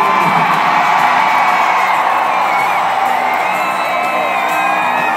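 A stadium crowd at a Coldplay concert in Foxborough, Massachusetts, in 2017 cheers and whoops at full volume, a loud, unbroken roar of many voices shouting together.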